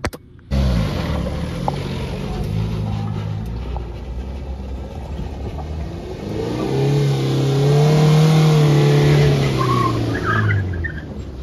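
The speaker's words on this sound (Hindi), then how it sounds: "तो चलो ड्राइविंग करते हैं शुरू" A used Tata Safari Storme SUV idles with a low, steady engine drone from inside the cabin, then the engine revs up and builds into a louder, rising pull before easing back, with no talking.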